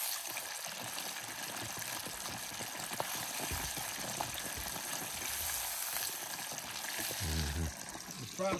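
Hot oil crackles and sizzles steadily with fish deep frying in an old single-temperature electric Fry Daddy fryer, a soft bubbling hiss throughout, with a brief low voice near the end.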